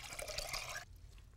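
Water filling a saucepan holding a dozen large eggs: a brief, soft rush of running liquid that stops abruptly partway through, faint and alone.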